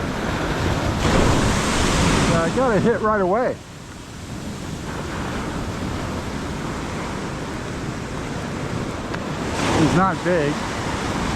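Ocean waves break on a beach during morning surf fishing, a steady broadband wash throughout with a louder surge near the end, as someone talks briefly over it.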